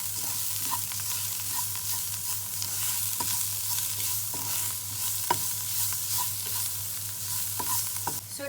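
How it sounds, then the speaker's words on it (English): Softened vegetables and spices for a Turkish kebab dish sauté in a pan with a continuous, even sizzle close by, dotted with light clicks and scrapes from stirring. "you're going to add your spices and you'll saute for about 2 minutes before you add your meat"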